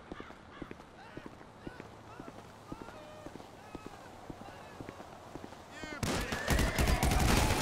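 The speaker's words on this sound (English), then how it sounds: "Why the hell did he shoot?" Gunfire in GTA Online crackles as sharp, scattered shots over a busy background with chirpy tonal sounds. Near the end it bursts into a dense, loud barrage of rapid fire.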